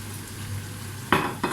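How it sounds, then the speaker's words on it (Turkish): Three tablespoons of flour being roasted and stirred in butter and oil in a pot, a soft hiss with a steady low hum, then two short bursts of scraping and sizzle near the end. "Yağlarımın üzerine de 3 yemek kaşığı unum var. Şimdi bunları güzelce kavuracağım."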